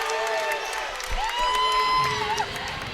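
Basketball crowd at a sub-state championship game reacting to a referee's call, a sustained dense roar of voices with whoops and shouts throughout, loud and close in an indoor gym.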